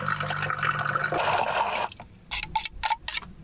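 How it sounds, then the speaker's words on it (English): Water rushes steadily into a container for a couple of seconds, then breaks into a few irregular splashes and gurgles as the flow stops, close by. "Fill it up with water"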